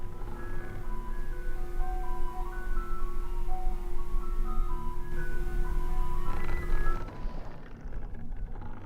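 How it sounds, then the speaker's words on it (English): An ice cream truck's tinkling jingle melody plays over a low rumbling background, repeating its tune for several seconds before cutting off near the end. "You guys hear the ice cream truck?"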